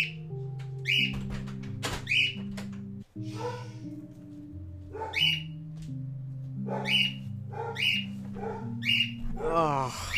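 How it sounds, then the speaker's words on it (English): Pet birds squawk and whistle in repeated sharp bursts, answering a barking dog indoors, layered over steady electronic music from a Binding of Isaac game. "when my dog barks, the birds feel compelled to bark to chirp back at him"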